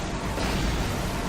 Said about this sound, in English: Nicely choreographed explosions.